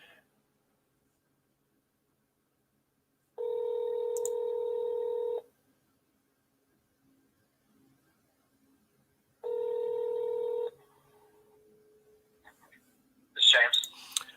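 A telephone call rings out on the line: two long, even ringback tones about two seconds each, separated by silence, followed by a brief burst of a voice answering at the end.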